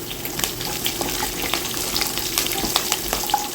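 Peanuts and curry leaves fry in a pan over low heat, a steady close crackling sizzle with scattered sharper pops, no voices.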